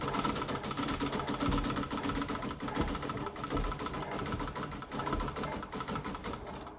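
A vintage Pfaff 130 treadle sewing machine stitching steadily, its fast, even mechanical chatter running continuously and close, with a low rhythmic thump from the treadle underneath.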